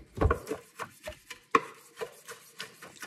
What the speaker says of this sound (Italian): Do anche una sminuzzata ai pomodorini secchi e alle olive.